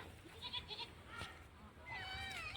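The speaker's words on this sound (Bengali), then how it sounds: "এই যে ছাগল" Goat bleating at a rural Bangladeshi homestead near a jungle path: several wavering, nasal bleats, some stacked close together, a longer quavering cry toward the end, over faint outdoor background.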